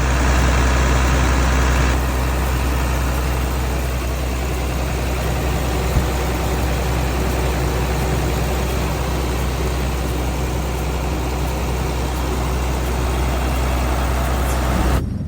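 A CAT 320 excavator with a six-cylinder turbocharged engine idles steadily, a loud, close, low rumbling drone that holds evenly throughout with no talk.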